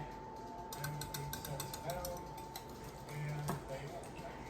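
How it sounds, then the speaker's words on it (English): Eggs being whisked in a bowl make quiet, rapid, irregular clicking taps in short bursts, with a person talking softly over them. "it's kind of hard for me to whisk"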